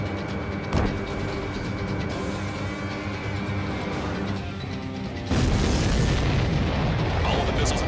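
Missiles blowing apart as they are shot down in the flight combat game Ace Combat 7, with booming blasts over a steady jet-engine roar that swells louder in the final seconds.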